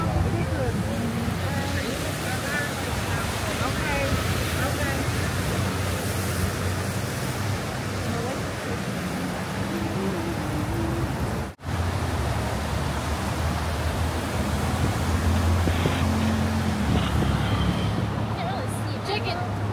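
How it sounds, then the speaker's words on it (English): A fast-flowing river swollen by rain rushes steadily, a dense continuous roar with no pauses. "Water's flowing pretty fast because of the rain we had last night."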